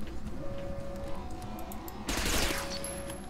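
Shotgun blasts in a video game against a steady low background, erupting as a sudden loud burst of gunfire about two-thirds of the way through and then trailing off.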